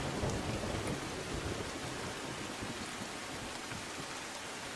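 Heavy monsoon downpour in Gujarat, a steady dense roar of rain pounding surfaces that stays even and continuous throughout with no voices.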